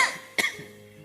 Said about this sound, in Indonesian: Batuk kayak gini terus mikir